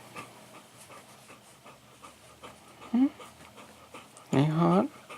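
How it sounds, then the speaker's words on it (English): A hot dog pants in short, close breathy bursts, with two louder whimpering, whining spells and people talking over it. "Why is she panting like that?"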